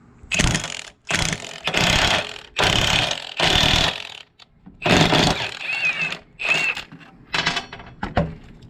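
Lisle wheel stud installer with a lug nut, driven by a ratcheting tool to pull a wheel stud into the hub, in bursts of loud mechanical clicking, about eight or nine separated runs with short pauses between them.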